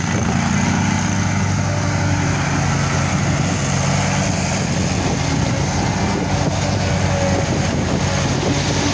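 A lawn mower fitted with Ballard mulching blades cuts and grinds fall leaves into dust during the last mowing of the season, a loud, steady engine drone with continuous whirring blade noise and no pauses.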